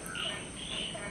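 A frog croaks faintly somewhere outdoors in the morning, a few soft, repeated calls over a quiet background hiss.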